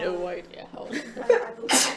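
A sneeze bursts out near the end of a stretch of conversation among players at a live tabletop Dungeons & Dragons session, a single sharp, fairly loud expulsion following casual talk.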